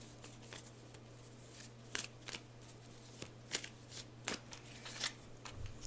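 Tarot cards tumble out of a deck and are shuffled, giving soft, irregular riffling slaps and flicks over a low steady hum, close and quiet.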